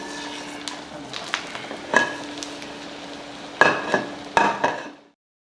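Mustard seeds crackle and pop in hot oil for a tempering, with a steady sizzle under sharp clustered bursts and a few pan clinks, close and fairly loud, no voices.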